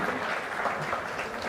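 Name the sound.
applause for a person in church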